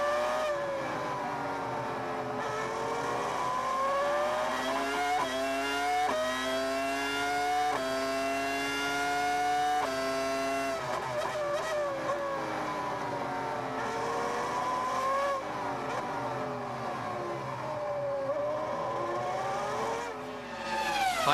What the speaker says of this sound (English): You've got Jenson Button, your target, the next car ahead.